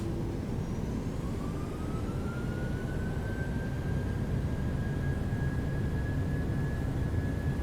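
Boeing 737 jet engines spooled to takeoff thrust in Microsoft Flight Simulator 2020 (PMDG 737), a steady loud roar with a rising whine climbing in pitch.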